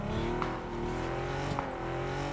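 Car engine in PUBG, a steady droning motor with rising revs and a couple of brief shifts, close and fairly loud with no talk over it.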